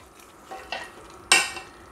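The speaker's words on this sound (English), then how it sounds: "give it a good stir" Egusi sauce with crayfish in a pot, three short wet stirring scrapes with a soft sizzle, the last the loudest, quiet and close with no voice.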